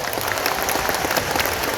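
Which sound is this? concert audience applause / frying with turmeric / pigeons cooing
concert audience applause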